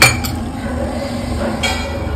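A small bowl clinks as boiled water is poured from it into chakli dough, with a bright metallic tap at the start, another shortly after and a third near the end, over a steady low background.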